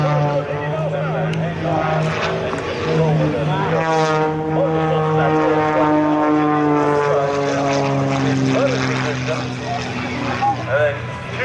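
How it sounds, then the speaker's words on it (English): Propeller aerobatic airplane flying a torque roll at an air show at Kaneohe Marine Corps Base Hawaii, its engine drone loud and steady throughout, with a shifting pitch as the plane hangs and backs down, and a voice talking over it. "So a torque roll, you can see the amount of wind and altitude as Kirby backs down."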